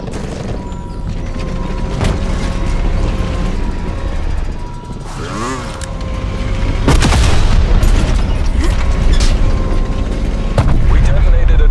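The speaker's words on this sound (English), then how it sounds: "We detonated a dirty bomb." A dirty bomb detonates in Call of Duty: Black Ops Cold War with a sharp, loud blast partway through, set among mechanical clatter and rumbling that grows heavier afterward.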